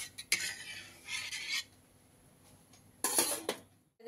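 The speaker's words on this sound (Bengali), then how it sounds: "ডালটাকে এরকম ভালোভাবে জলের সঙ্গে মিশিয়ে নেব, যাতে নিচে বসে না যায়" Spoon scraping and clinking against a pot while moong dal is stirred into water over a high gas flame, in short irregular bursts separated by quieter pauses.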